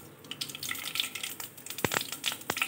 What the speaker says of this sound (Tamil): எண்ணெய் காஞ்சிருச்சுங்க, அடுத்து கடுகு போட்டுக்கலாம்.